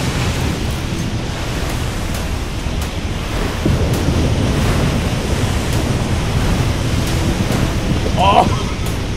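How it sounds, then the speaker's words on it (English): Ocean waves in the video game Age of Water wash and hiss continuously, a loud, steady surf roar with windy texture throughout. "damn, the waves are just so awesome."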